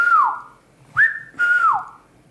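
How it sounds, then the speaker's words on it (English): A recorded human whistle plays three clear, close tones: a falling note, a short rising one, then a longer sustained note that slides down, with silence between. "I just recorded like this whistle,"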